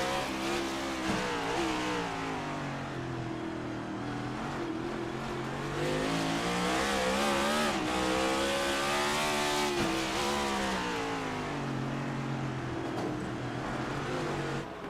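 Race cars battle wheel to wheel on the Chicago street course in a racing game, engines roaring and revving continuously with shifting pitch as they jostle through corners, loud and close throughout.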